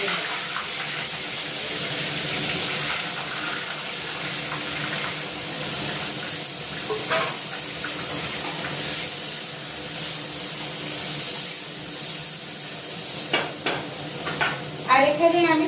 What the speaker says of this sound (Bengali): চলো পেঁয়াজটা আমি এবার একটু লাল করে ভেজে নেব।